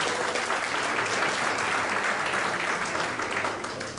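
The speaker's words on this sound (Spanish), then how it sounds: "También pido un fuerte aplauso a Pedro Páez y a su representante, el economista David Echeverría." An audience at an economic development seminar applauds Pedro Páez and economist David Echeverría: continuous, full clapping from a large room that holds level and eases slightly near the end.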